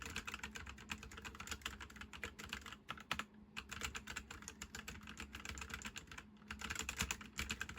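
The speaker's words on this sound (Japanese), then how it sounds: "では実際に打鍵音も聞いてみましょう。" Rapid, continuous typing on an ASUS ROG Ace mechanical gaming keyboard, dense clacking keystrokes close up with a couple of brief pauses and no talking.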